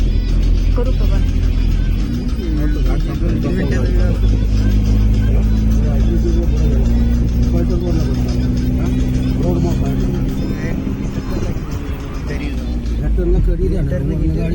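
A big car drives and swings through a turn on a road trip from Katraj to Phaltan, its engine droning steadily and close throughout, with a low hum that shifts slightly in pitch as it goes.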